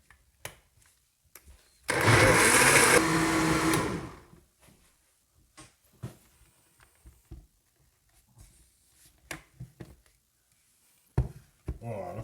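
Blender pureeing spicy tomato soup in a loud, dense whir lasting about two seconds, then stopping, followed by scattered knocks and light handling sounds.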